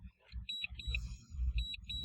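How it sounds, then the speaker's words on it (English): A drone controller sounds a warning alarm: short, bright, high beeps repeating in quick pairs and triplets, fairly close, over low rumbling handling noise and wind. "Let's cancel the beeping,"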